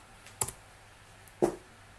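Keys tapped on a computer keyboard while typing in Microsoft Excel, two sharp, close clicks spaced about a second apart over quiet room tone.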